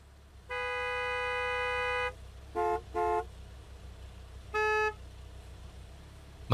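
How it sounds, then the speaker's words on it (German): Car horn in the Gas Station Simulator video game, several flat honks: one long blast, two short toots close together, then another medium honk, loud against a quiet background. "Wer hupt denn hier schon wieder?"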